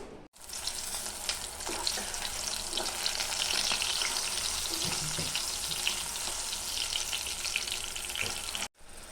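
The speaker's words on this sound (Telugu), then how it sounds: "ఆయిల్ వేసుకొని అందులో ఒక పది పచ్చిమిరపకాయలు వేసి ఫ్రై చేసుకోవాలి" Ten green chillies fry in hot oil in a pan, giving a steady bright sizzle and crackle that runs evenly throughout, with occasional faint clinks and no talking.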